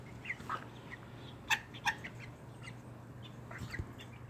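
Laying hens and a young rooster out in a garden, with a few scattered clucks and squawks, two sharper calls in the middle, then quieter clucking near the end, fairly faint with no talk.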